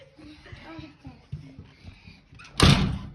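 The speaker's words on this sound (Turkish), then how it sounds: "Kapıyı açtı ve yine" A door at home swings open with a sharp, loud clunk and rush of noise at the end, following a stretch of someone talking and a voice nearby.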